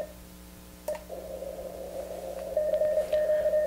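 Morse code signals received on an LNR Precision MTR-5B radio, clear steady beeping tones keyed over a faint hiss, growing louder and more distinct toward the end.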